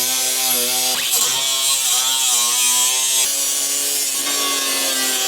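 A power tool grinds through the sheet-metal rear wheel tubs of an NSU car, a loud, steady harmonic whine that shifts pitch as the blade bites and eases, with a few brief breaks in the cut.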